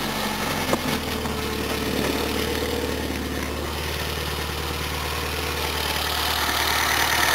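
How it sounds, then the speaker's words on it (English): An old Volvo's engine runs steadily at slightly raised revs with the air conditioning off and a cooling fan fault, a continuous droning hum with no change in pitch and no voices. "I'm just holding the revs up a bit, got the aircon off."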